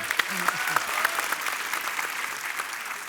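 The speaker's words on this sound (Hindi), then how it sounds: "तालियां" A small studio audience at The Kapil Sharma Show claps steadily for a few seconds, fairly distant and soft, with a few sharper claps near the start.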